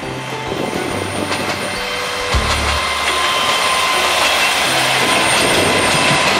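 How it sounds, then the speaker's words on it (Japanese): A three-car diesel train rumbles past nearby along Toyama Bay, its low engine drone and rolling noise building and holding steady. "またまたね電車が来たね"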